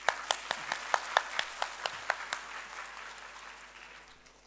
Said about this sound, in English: Please give a big applause to him.